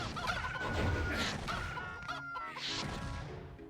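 Chickens clucking and squawking in the Heretic video game after the Morph Ovum turns enemies into chickens, a busy overlapping cluster of clucks and gobble-like calls, fairly close and continuous.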